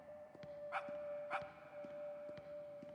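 A dog in the video game Gift gives two short, sharp barks a moment apart over a steady high electronic tone and faint background noise.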